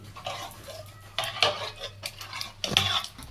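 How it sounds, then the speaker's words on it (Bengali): A spoon stirs watery khichuri in an oiled kadai (wok), making scattered metallic clinks and scrapes against the pan in short bursts, close by. "কড়াইতে তেল আছে, সেই জন্য আমি একটু খিচুড়ি দিয়ে সুন্দর করে মিশিয়ে তারপরে ঢেলে নিই।"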